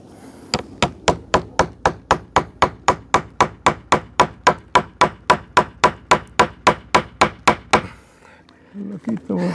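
About twenty-five steady, evenly spaced hammer blows drive a nail into a board on a rooftop repair, loud and close, then stop abruptly with faint talk right after.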